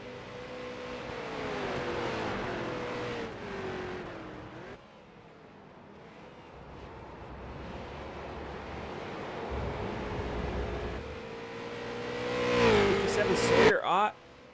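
A race car at Road America roars past on the track, its engine pitch sweeping as it nears and fades, with another car building louder and closer toward the end, under commentary and wind noise.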